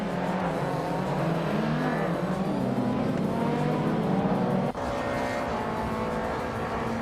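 WTCC touring race cars race at Knockhill circuit, loud sustained engine roar with shifting pitch as cars pass close by, no speech.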